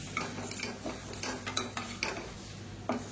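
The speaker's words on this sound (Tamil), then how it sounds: "இதில் மெஷரிங் கப்பில் ஒரு அரை கப் அளவுக்கு பாசிப்பருப்பு சேர்த்து நல்லா வறுத்துக்கலாம்" Moong dal dry-roasting in a pressure cooker, a steady scrape of a spatula against metal with light rattling of the dry lentils, repeated stirring strokes close by, no voices.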